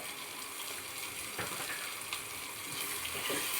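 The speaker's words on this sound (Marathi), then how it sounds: "आता मी छान अशी परतून घेणार आहे" Spices with turmeric and red chilli powder frying in hot oil for a spicy egg curry, giving a steady broadband sizzle throughout with a few brief stirring clatters and no talk.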